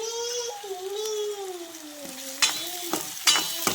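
Tomatoes tipped into frying onions in a pan while cooking rajma, with a steady sizzle, several sharp stirring scrapes and clatters toward the end, and a faint tonal whine running underneath.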